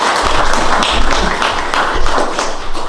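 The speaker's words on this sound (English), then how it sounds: "Let's give her another round of applause" Audience applause at a historical society's 50th anniversary and building dedication, a steady close round of clapping from a crowd that holds evenly for the full stretch.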